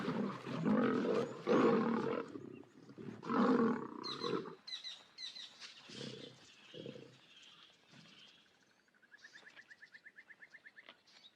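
Male lions fighting in the South African wild, loud snarling roars in bursts for the first few seconds, then fading growls while birds chirp and call in the background.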